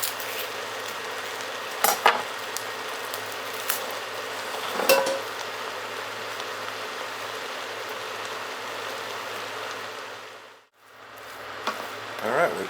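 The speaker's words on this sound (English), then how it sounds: "let's get our hamburger in there, or ground beef as some might call it" Ground beef cooks in a Dutch oven with a soft, steady sizzle and occasional scraping stir strokes, heard at moderate distance under a constant hiss, with one brief dip near the end.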